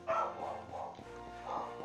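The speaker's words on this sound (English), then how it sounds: "And yet again, the dogs are barking." Dogs barking outside a house in a game, a few muffled yelps and barks, faint and distant.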